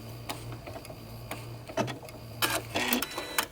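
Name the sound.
sewing machine sewing a lock stitch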